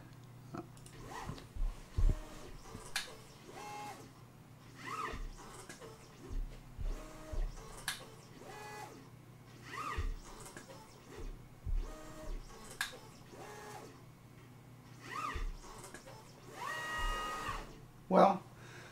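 An OpenPnP pick and place machine moves components from one tape strip to another, giving faint mechanical whirs and sharp clicks at irregular intervals under a low steady hum, with a person talking quietly at times.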